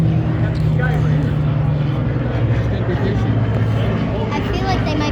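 A B-10 bomber and a Skyraider fly overhead at an EAA air show, a loud steady propeller-engine drone filling the scene while spectators talk over it.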